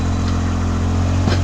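An ATV engine runs steadily, driving its wheel up onto a tire to break the bead loose for a tire change, with a low continuous hum, a slight surge near the end, and no voices.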